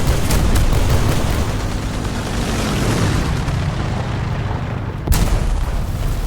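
Bombing explosions in a video game: steady heavy booming rumble throughout, with a sharp loud blast near the end.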